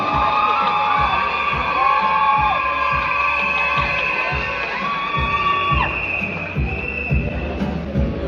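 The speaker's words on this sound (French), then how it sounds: "Ils méritent nos applaudissements et nos cris de joie." A crowd at a school year-end closing ceremony cheers and shouts with joy, and scattered claps come through. Long bright whistles or shrill calls sit over a dense, lively murmur.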